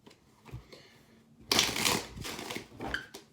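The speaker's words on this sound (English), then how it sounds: "I was like, wow, shuffling's going so good." Soft handling noises lead into a loud, close riffle of playing cards being shuffled, lasting a couple of seconds, with a final flick.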